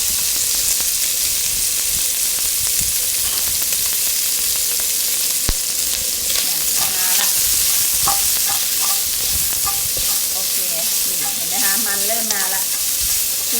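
Loud, steady sizzling of a little vegetable oil in a hot wok while stir-frying pork belly, with scraping and stirring clatter mixed in throughout.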